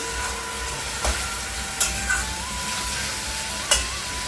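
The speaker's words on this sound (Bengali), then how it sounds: "আমি কিন্তু পেঁয়াজটাকে ভেজে হালকা হালকা একটু লাল করেছি" Onions frying slowly in a little oil over a stove flame, a steady low sizzle with a few sharp clinks and scrapes of stirring standing out.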